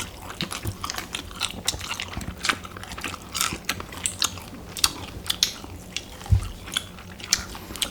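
Close, crisp biting and chewing of kkanpung shrimp, a fried Chinese-Korean dish eaten alongside mala food, with repeated crunchy bites and wet chewing throughout and no talk.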